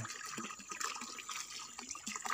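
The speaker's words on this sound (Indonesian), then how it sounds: "kita cuci beras dulu bapak tapi di ember yang lain dulu" Rice being washed in a bucket of water, with soft sloshing and trickling splashes, quiet and close, continuous for a couple of seconds with no talk.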